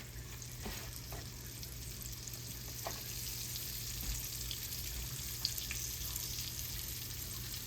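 Pieces of liver sizzle steadily in a hot skillet for smothered liver and onions, a constant close frying hiss with a low background hum and a few soft pops.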